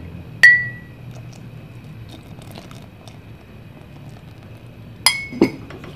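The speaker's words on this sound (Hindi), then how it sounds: "मिक्स करेंगे अच्छी तरह से" A metal spoon stirring custard into milk in a pot clinks sharply against the rim twice, once early and again near the end, over a quiet background of faint scraping.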